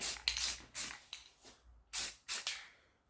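Short hissing bursts of spray paint laid onto an airsoft gun for a camouflage finish, several uneven sprays of varying length with brief pauses between, close and fairly loud.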